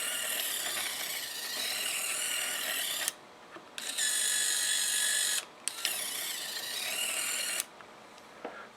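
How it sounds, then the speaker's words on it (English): A single-motor steerable robot car's steering mechanism whirs and ratchets steadily, gear noise running continuously with two brief stops as it switches between forward and reverse. "Forward, reverse drives the steering mechanism."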